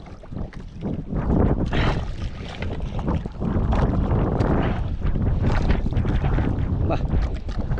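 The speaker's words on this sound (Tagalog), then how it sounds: "lakas, lakas ng hangin." Strong wind at sea around a fishing mother boat in the Pacific buffets loudly and continuously, gusting in waves with rushing, roaring noise throughout.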